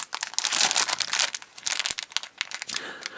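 A plastic bag crinkles and rustles in close, irregular bursts as it is opened by hand to take out a glittery Disney key, loud and alone without speech.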